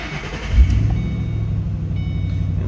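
A 2008 Ford Mustang Bullitt V8 cranks and catches with a brief burst, then settles into a steady, deep, rumbling idle close by, with no talking.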